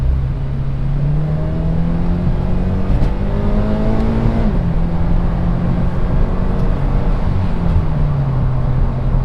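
A Vortech-supercharged Scion FR-S engine revs repeatedly, its pitch climbing and dropping in smooth sweeps under steady road and drivetrain noise, heard from inside the car with no talking.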